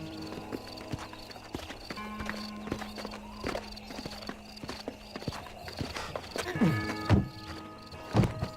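Horse hooves clip-clop steadily at a walk in the Red Dead Redemption video game, a moderately loud rhythmic series of thuds with a brief whinny-like cry and other game sounds underneath.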